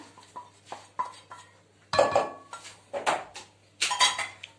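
A spoon works tomato paste into kisir, a Turkish bulgur salad, in a bowl. Metal scrapes, clinks and squeaks come close and loud in irregular bursts, with no talk.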